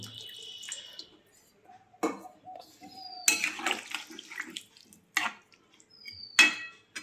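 Water pours and splashes into a cooking pot holding a thin potato, cauliflower and pea curry, in several short bursts broken by pauses, with metal clinks and dripping between them.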